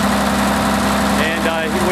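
A six-cylinder UD-series tractor engine runs on diesel at a tractor show, a steady loud idling hum with a rhythmic mechanical throb that continues unbroken throughout.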